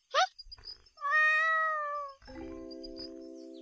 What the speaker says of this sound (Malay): Susah jaga kucing ni.